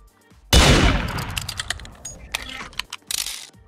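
A gun fires in the Roblox game Murder Mystery 2, one loud sharp blast followed by a decaying tail and a scatter of quick clicks and smaller pops, with a player talking over voice chat.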